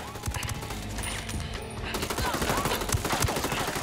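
Bursts of automatic video-game gunfire crackle steadily throughout at moderate level, a rapid dense volley with a brief lull near the middle, no clear talk over it.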